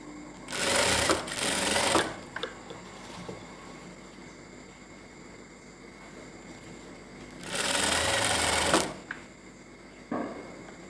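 Sewing machine stitching thread piping onto a ready-made style blouse, two loud bursts of steady running, each roughly a second and a half long, with a few soft clicks and quiet handling in between.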